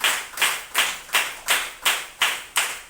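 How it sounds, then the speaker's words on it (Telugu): A church congregation claps together at a Sunday service in a steady, even rhythm of about three claps per second, moderately loud and with no voices over it. "చప్పట్లు పెట్టి ప్రభువు గరప."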